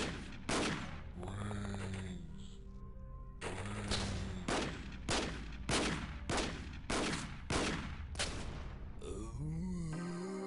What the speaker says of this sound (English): Everyone's just shooting at it.